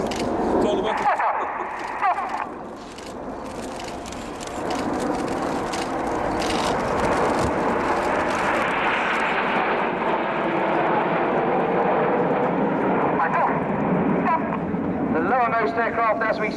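RAF Red Arrows display jets at RIAT 2015 roar overhead in a steady, loud engine rumble that swells and shifts as the formation passes, with a commentator talking over it.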